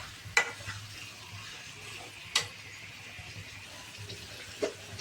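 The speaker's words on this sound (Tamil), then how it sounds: "இது அப்படியே வதங்கட்டும்" Chicken and liver thokku sautés quietly in a pan with salt, a soft steady sizzle broken by three sharp spoon taps against the pan, close and faint.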